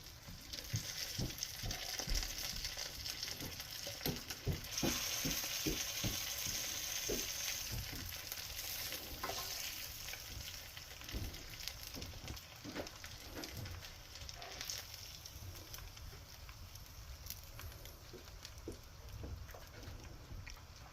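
Morel mushrooms frying in a skillet, a steady close sizzle and crackle with scattered pops and occasional stirring scrapes throughout, no voices.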